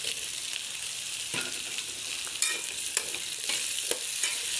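Sliced onion frying in a pan with a little salt, a steady bright sizzle broken by several spoon or spatula scrapes as it is stirred.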